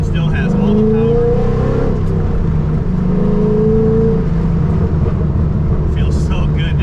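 A Honda car engine pulls hard under acceleration while driving, a steady loud drone with rising tones, and a voice talks over it throughout.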